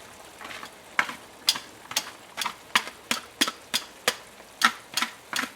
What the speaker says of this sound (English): Put this linguine in there.